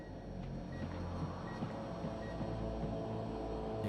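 Short, regularly spaced electronic beeps from a live bomb in the video game Alien: Rogue Incursion, faint and high-pitched over a low droning engine-like rumble.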